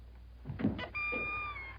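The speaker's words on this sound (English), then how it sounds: "You just kick a tree that squeaked?" A squeaky sound effect dubbed in for a tree being kicked in a 1939 film: a soft thump, then a sustained, slightly wavering high squeal that holds steadily for almost a second.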